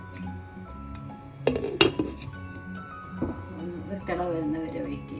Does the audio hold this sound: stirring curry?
yes